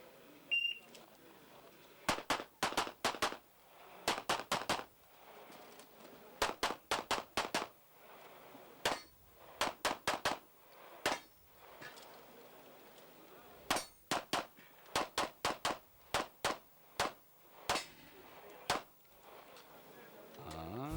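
Rapid handgun fire from a CZ Shadow 2 pistol on an IPSC competition stage, with many shots in quick bursts and short pauses between strings, some ringing off steel targets, heard at a moderate distance with faint background voices.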